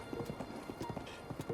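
Horse hooves clip-clop in a steady walking rhythm in The Legend of Zelda: Breath of the Wild, close and fairly quiet, with no talk over them.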